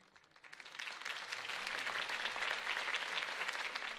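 Applause swells up from quiet to a full, sustained round of clapping from a large crowd, steady and bright, in the video game Batman: The Telltale Series.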